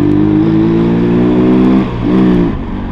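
A car engine revs and pulls hard through the gears on a test drive, a loud steady drone that climbs, dips briefly at a shift, then rises again, with no talk over it.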